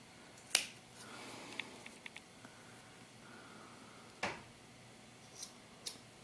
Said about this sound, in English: Let's do some trimming and see what happens here.